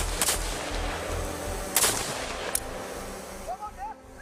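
Rifle shots ring out during military field target-shooting training with paramilitary police special forces, three sharp cracks spaced apart, and brief voices heard near the end.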